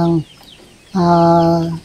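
Two short bursts of chicken clucking close by, a brief call then a longer one after a pause.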